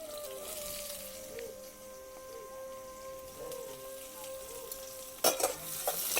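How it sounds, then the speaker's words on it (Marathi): Garlic and onion sautéing in hot oil with cumin and mustard seeds crackle and sizzle steadily, with a few louder stirring clatters near the end and no talking. "कांदा लसूण चांगला परतून घ्यायचा"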